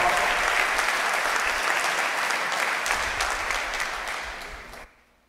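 A church congregation applauds steadily at a worship service, a dense wash of clapping that holds at full strength for about four seconds, then tapers and cuts off abruptly.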